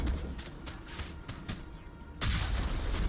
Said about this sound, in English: Oh, I sniped the fuck out of them.